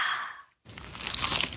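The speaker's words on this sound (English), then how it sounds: "Is that the sound of an ooey gooey cheesy crunchy slice of P-I-Z-Z-A?" A crunchy bite into a cheesy pizza slice, heard close up: a brief crackle, a short silence, then a loud crisp crunch.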